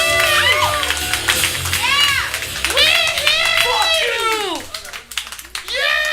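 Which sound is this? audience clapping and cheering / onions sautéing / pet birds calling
audience clapping and cheering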